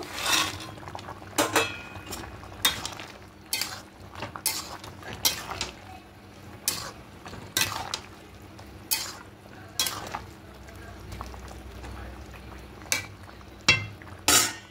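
Lentil dumplings (bori) go into a pot of simmering dudh shukto, with repeated sharp clinks and scrapes of a metal spoon against the pot at an uneven rhythm over a quiet bubbling background.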